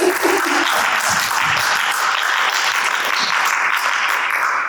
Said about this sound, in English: can you ladies give him a round of applause?